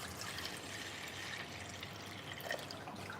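Filtered water poured in a home kitchen in Bali, a soft steady trickle and splash running evenly throughout, fairly faint with no talking over it.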